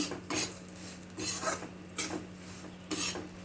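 Karadantu ingredients are stirred and fried in a pan, heard as four or so close, rhythmic scraping strokes against the metal with a quiet hum between them.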